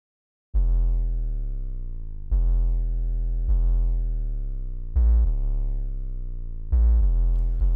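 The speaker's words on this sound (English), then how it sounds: "Second 808 pattern." A distorted, EQ'd 808 bass pattern programmed in FL Studio plays five deep, booming notes with sliding pitch drops, loud, close and alone, each note sustaining until the next one starts.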